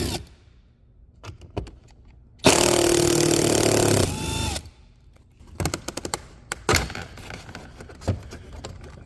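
Power driver with a T30 Torx bit backing screws out of a door handle on a 2005 Chevy, one loud whirring burst of about a second and a half amid close clicks and handling noises.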